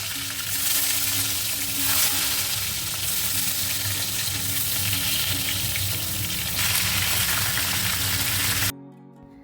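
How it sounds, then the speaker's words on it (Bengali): Fried pointed gourd pieces tossed into a pan of sizzling spice paste give a loud, steady frying hiss with stirring scrapes. It runs close and continuous, with no talk, and cuts off near the end. "এখন এই ভাজা পটলগুলো দিয়ে দিলাম মশলার সাথে ভালো করে মিশিয়ে নিয়ে"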